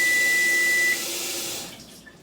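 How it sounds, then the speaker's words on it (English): Tap water runs steadily into a sink to rinse honey off a hand, a close broadband splash with a brief high beep early on, then the flow is shut off and tails away into quiet. "I've got to rinse my hand off."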